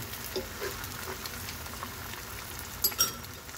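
An egg cooks in warm oil for kimchi fried rice, giving a steady close crackle and sizzle with a couple of sharper pops near the end and no talking.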